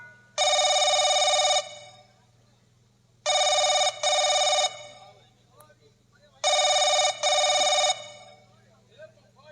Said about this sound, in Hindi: राजकुमारी जी का फोन।